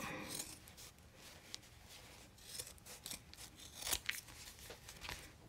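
Scissors snip and trim stitched fabric on an in-the-hoop embroidered owl flap purse, giving quiet, irregular cutting and rustling sounds close by, with a few sharper snips near the end.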